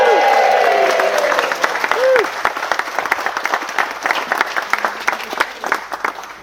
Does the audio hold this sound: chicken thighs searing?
no